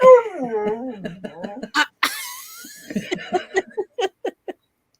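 A dog whines and howls close by, drawn-out wavering whimpers rising and falling, then a sharp yelp and a string of short yips and whimpers, with a voice briefly heard.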